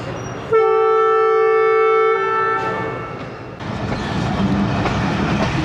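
The 14DN Awam Express in Pakistan sounds a long, loud, steady horn blast, then rolls off with a rising rumble of wheels and carriages close by.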